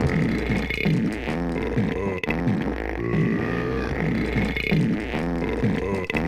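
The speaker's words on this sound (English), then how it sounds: "I know about the fart and the burp sounds you can make in the loading screen" Burp and fart sound effects triggered on a racing video game's loading screen repeat in a loud, steady, rhythmic cycle of throaty voiced noises.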